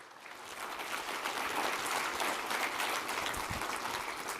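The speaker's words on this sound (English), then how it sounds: "Please give a round of applause for Katie Nichols." An audience claps steadily for a presenter at a security talk, dense and sustained applause filling the room throughout with no voices over it.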